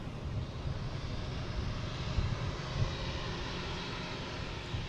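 A British Airways jet at Boston Logan International Airport produces a continuous, fairly loud engine roar and rumble, steady throughout with small swells and no voices.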